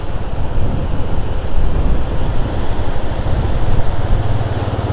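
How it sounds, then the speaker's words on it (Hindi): Fast-flowing river water rushing beneath a bridge on the road to Shimshal Valley in Upper Hunza, Gilgit Baltistan, a steady, loud roar mixed with wind buffeting the microphone. "लेफ़्ट राइट देखते हुए डर लगता है जो पानी स्पीड से जा रहा है।"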